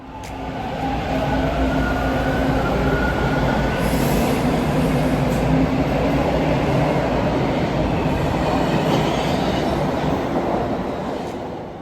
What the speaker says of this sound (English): I loved riding the Toronto streetcar